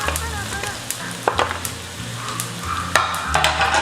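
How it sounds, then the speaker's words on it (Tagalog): Onion frying in a pan for a monggo dish with bagnet pata, a steady sizzle up close with a few sharp scraping and tapping clicks from stirring, and no one speaking. "Lagay na po natin yung sibuyas."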